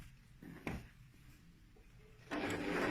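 A sewing machine stitching a half-inch seam on a zipped cushion with a standard presser foot, a brief close mechanical burst early on, then a steady louder whirring run of stitching starting near the end.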